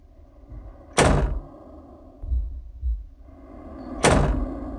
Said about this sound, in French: ça doit être une porte qui se trouve en haut, forcément